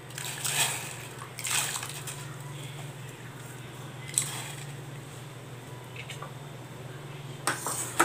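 A spoon scrapes and clinks against a metal pot while soaked sago (tapioca pearls) is stirred into bubbling, sloshing boiling water, with a steady low hum from a stove underneath.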